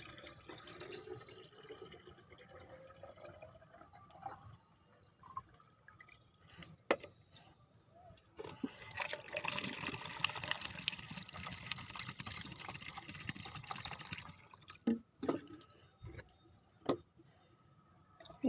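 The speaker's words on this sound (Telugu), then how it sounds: "ఈ మళ్ళీ ఇంకో డబ్బాకు పోసుకుంటాను." Liquid fertilizer for brinjal plants poured from one container into another: soft trickling and splashing, faint and steady through the middle, with scattered drips and knocks of the containers before and after.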